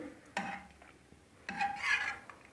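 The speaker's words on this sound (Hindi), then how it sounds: "थोड़ा सा कलछी से हम ऐसे इसको दबा देंगे जिससे थोड़ा सा छोटा छोटा हो जाए।" A ladle pressing and mashing cooked vegetables in a pot of sambar, two short bursts of soft squelching, scraping strokes against the metal pot with quiet pauses between, close and fairly faint, no talking.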